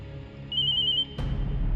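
A mobile phone in a Tamil television serial gives a short, high electronic ringtone for about half a second, followed by a dull thud, with a low background hum throughout.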